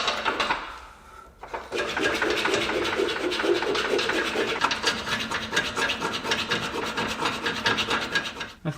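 A tool cuts steadily through a bolt on the front subframe of a Jaguar S-Type, giving a continuous, close grinding rasp that runs for several seconds after a brief pause near the start.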